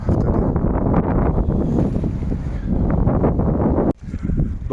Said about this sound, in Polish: Ogólnie wiatr szaleje, wszystko dookoła, huczy, buczy.